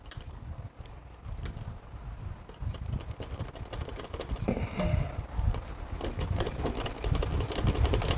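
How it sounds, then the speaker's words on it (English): A long ratchet tightens bolts on the rear wheel of a Harley-Davidson Panhead motorcycle, a steady run of small close clicks and metallic ticks with shop handling noise, no talking. "You notice me using a little bit longer ratchet than usual to get a lot of torque on"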